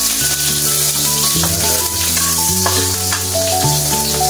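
Onion sizzles loudly in hot oil with garlic already browned, a steady close frying hiss that runs continuously while a low, sustained musical tone plays underneath.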